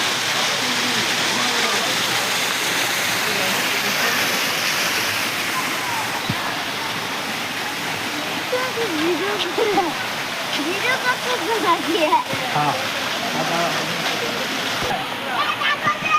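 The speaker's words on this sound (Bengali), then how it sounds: "ঝর্ণাটা খুব সুন্দর, মনোমুগ্ধকর।" A park water fountain in Alam Nagar Park, Nabinagar, Brahmanbaria, splashes in a loud continuous rush near the listener, with voices talking faintly beneath the water.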